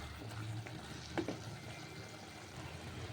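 Mutton keema gravy curry with garam masala is stirred in a pan, making a quiet, steady sizzle with soft scraping strokes and one brief louder scrape.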